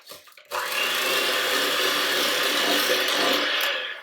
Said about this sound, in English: It's gonna be a little loud because I'm gonna use my handy dandy hand mixer.